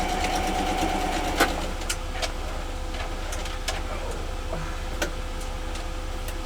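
A sewing machine stitches quilt block pieces, corner to corner, in a steady, fairly quiet mechanical run with a few light clicks along the way.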